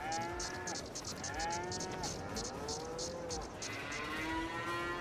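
Cattle in the Farming Simulator 22 video game, kept in large modular cow pastures, give a run of drawn-out moos, one after another, fairly close, over a low background hum with no speech.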